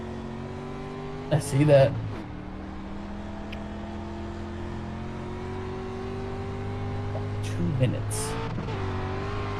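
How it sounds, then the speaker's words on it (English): A race car engine idles on pit road in iRacing, a steady, even drone held throughout, with brief speech twice over it. "I'm literally just listening to my engine about to pop in pit road."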